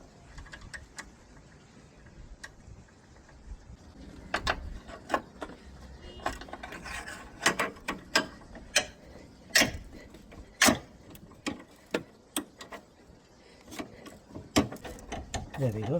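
A ratchet wrench clicks in quick bursts while loosening the bottom anti-roll bar linkage nut on a Ford Fiesta Mk7, sharp close metallic ticks with short pauses between strokes.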